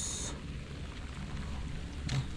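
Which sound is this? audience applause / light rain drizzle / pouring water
light rain drizzle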